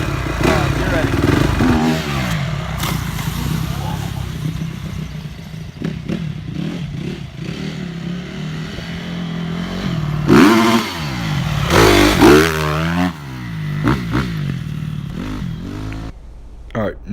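A dirt bike engine revs hard during a jump, climbing and falling in repeated throttle bursts. The engine stays loud and close, with clattering mechanical noise underneath.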